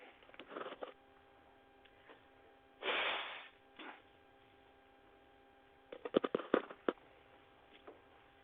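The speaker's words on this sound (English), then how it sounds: "one more nose blow" Someone blows their nose in bursts, one long broad honk in the middle and a cluster of short snorting blasts later, over a steady mains hum in a quiet room.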